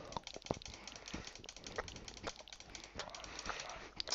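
Rapid, irregular clicking of a computer mouse during a Cookie Clicker session, a dense run of sharp taps filling the whole stretch with brief louder bursts and no talking.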